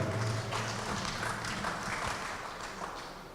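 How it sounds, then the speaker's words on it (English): An audience at a newspaper launch event applauds, a soft steady patter of clapping that slowly fades, heard from some distance. "another round of applause to the vision of Sani Sab himself"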